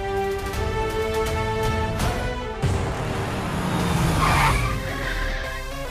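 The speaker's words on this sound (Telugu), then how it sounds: "ఎందుకు బాబు కారు ఆపారు?" A car comes to a stop with a loud, close tire squeal and skid that rises and then fades, heard over a steady engine drone.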